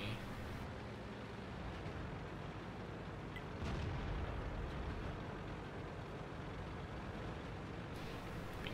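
Tank battle in World of Tanks with the Großtraktor - Krupp: a dense, rumbling wash of distant cannon fire and shell impacts under steady engine noise, with a heavier boom near four seconds.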